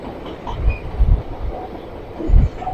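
A train running through a rocky mountain route, a continuous loud rumble with rhythmic clunks of wheels over rail joints and a faint high squeal now and then.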